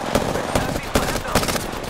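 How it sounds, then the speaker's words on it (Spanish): Rapid automatic gunfire in an Apex Legends match, a steady burst of sharp shots repeating about every 0.4 seconds, loud and close over a dense, noisy background of battle sounds. "¡Disparando!"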